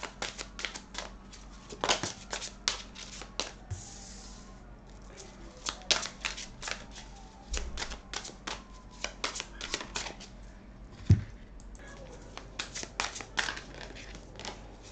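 Oracle cards are shuffled by hand in a quiet room, giving steady soft riffling and tapping clicks in an irregular rhythm with a few louder snaps, close by and with no talk.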